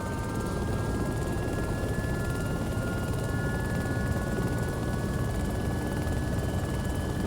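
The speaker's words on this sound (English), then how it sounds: "one of the nicest flying helicopters in Arma 2 Operation Arrowhead" Constant loud whir of helicopter rotors and turbine in Arma 2: Operation Arrowhead, a steady unbroken drone heard close up from inside the aircraft.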